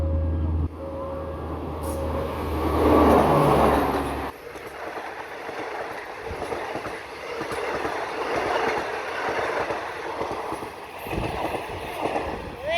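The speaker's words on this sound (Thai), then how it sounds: "ขบวน 258 น้ำตกธนบุรีไปแล้วครับ" Train 258 from Nam Tok to Thonburi rumbling past a railway crossing at U Thong, a low steady rolling roar with wheel clatter, loud and close at first, then continuing more broadly as the cars pass, with no talk over it.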